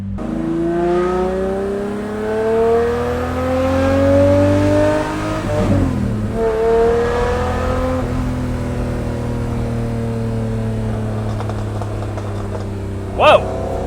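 Revving SVR car engine, rising and falling in pitch through several loud swells, with a Lamborghini Murcielago with straight pipes nearby; a voice speaks briefly over the engine noise.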